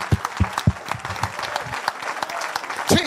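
Applause in a church service, with a few loud sharp claps standing out near the start and end over a bed of scattered clapping and cheering from the congregation.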